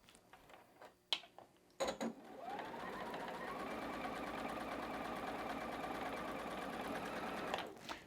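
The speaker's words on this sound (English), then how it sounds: "we're going to sew on both sides of this 1/4 inch too" A sewing machine stitches a quarter-inch seam on a quilt patchwork block of Michael Miller fabric. A few close clicks and taps from handling come first, then the motor runs in a steady, continuous whir until it stops near the end.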